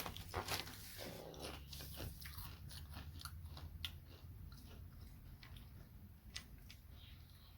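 Someone munches crunchy generic cinnamon cereal close to the mic, with a rapid irregular series of sharp crunching bites over a low background hum.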